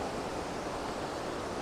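Roaring Creek running full, a steady, even wash of flowing water heard close and alone, a constant broadband rush with no breaks.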